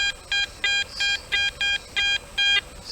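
An electronic detector beeps in a regular rhythm, about eight short high tones in quick succession, clear and close against a quiet background.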